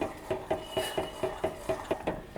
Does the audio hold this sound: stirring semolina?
yes